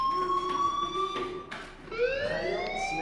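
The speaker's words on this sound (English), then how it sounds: "Hey, do you hear that fire alarm?" A fire alarm in the video game Life is Strange wails in a rising and falling electronic siren tone, moderately loud and continuous, with no voices over it.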